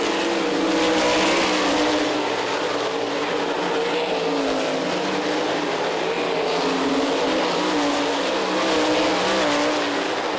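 Sprint race cars run an A-main on a dirt track at Eldon, Iowa, a continuous loud engine roar rising and falling as the cars pass, with no voices.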